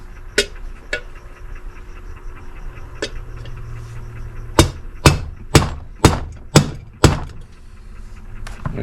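Hammer blows drive a socket to seat a nylon headlight-bucket holder on a 1972 Datsun 240Z: a few scattered taps, then a quick run of six sharp, fairly loud knocks close by.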